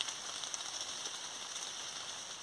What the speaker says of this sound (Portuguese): tempo de chuva aqui, ó, tá chovendo bastante